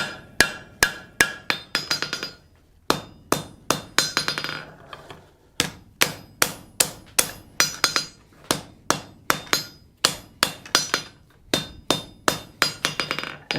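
A blacksmith's hammer strikes hot steel while forge welding a scroll, ringing with sharp metallic blows in quick regular rhythm, grouped into bursts with short pauses, close and clear.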